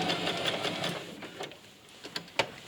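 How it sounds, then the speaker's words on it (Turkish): A sewing machine runs a straight stitch along raised fabric ribs, a steady close mechanical whir that slows and breaks into a few sharp clicks and clunks near the end. "Düz dikiş yaptım."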